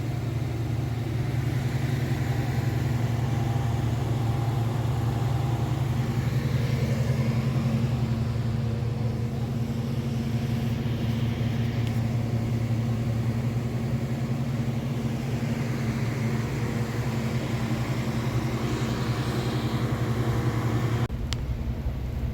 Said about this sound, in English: Be a little loud, but that's a fuel barge